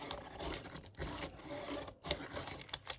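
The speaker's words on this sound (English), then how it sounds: "This is my Derwent crank handle, which does not want to work for me." A Derwent crank-handle pencil sharpener grinding a pencil with uneven, scratchy rasping turns that stutter and restart. It is close but quiet, with no voices.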